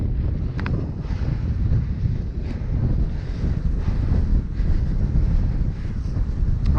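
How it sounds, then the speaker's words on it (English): Strong wind buffets the microphone of a cyclist riding in a Galibier Mistral jacket, a continuous low rumble with steady gusting and no speech. "Yeah, it's windy again."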